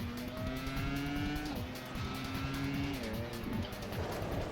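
A race car in a PlayStation 2 racing video game roars with a rising and falling engine whine and squealing tires through the corners, continuous and fairly quiet, with no talk.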